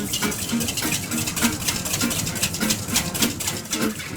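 A whisk beats toasted coriander seeds into a marinade with quick, regular clicking strokes against the bowl, close up and fairly loud, with no talking.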